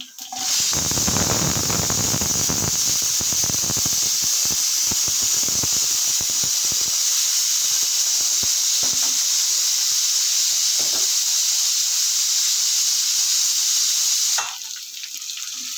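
A pressure cooker on the stove releases a loud, sustained whistling hiss of escaping steam that runs for about fourteen seconds before cutting off sharply, with faint sizzling and clatter early on.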